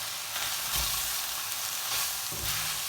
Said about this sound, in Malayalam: ഒരു 2 സ്പൂണ് വെളിച്ചെണ്ണയും കൂടി ഒഴിച്ചിട്ട് ഇളക്കി കൊടുക്കണം.